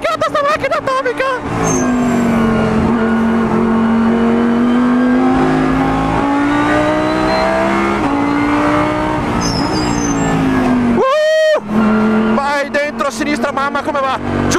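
A Lamborghini Huracán GT3 race car accelerates hard around the Valencia track, its engine note climbing steadily through the gears with a sharp shift break partway, loud and close from inside the car, while a man exclaims excitedly over it.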